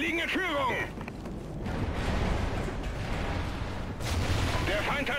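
Explosions and gunfire in the Call of Duty Ghosts multiplayer match on the Stormfront map, dense rumbling blasts and crackling bursts throughout, loud and continuous with a brief lull partway through.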